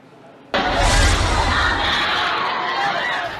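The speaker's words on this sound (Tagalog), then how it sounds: "Puro sigawan at iyakan ang maririnig sa mga nabagsakan ng gumuhong palapag ng St. Peter Apostle Parish Church sa San Jose del Monte, Bulacan." Sudden loud outburst of many people screaming and wailing after a termite-damaged floor collapses inside St. Peter Apostle Parish Church in San Jose del Monte, Bulacan, a dense, sustained mass of panicked cries starting abruptly.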